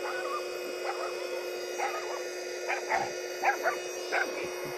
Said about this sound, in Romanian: Vezi că fuge câinele după tine acum.